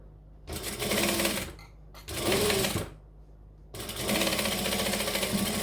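Sewing machine stitching fabric close to a lining edge on a sewing project: three loud, steady whirring runs of rapid needle strokes, the last one longer, separated by short quiet pauses and a brief tap.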